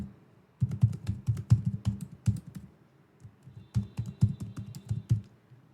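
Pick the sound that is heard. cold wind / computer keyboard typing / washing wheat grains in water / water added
computer keyboard typing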